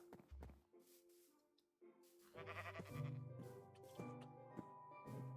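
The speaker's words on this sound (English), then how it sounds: "now we shall start by gathering the sheep" Sheep bleat in Minecraft with the Minecolonies mod, several short bleats rising over game music and effects, fairly quiet overall.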